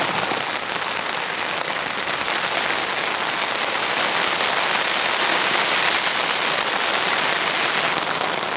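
Heavy rain drums on a sagging nylon tent during a camping rainstorm, a dense, loud, unbroken roar of impacts heard from inside.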